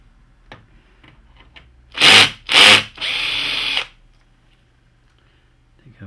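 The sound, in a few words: removing screws from Hitachi ED-A100 optical assembly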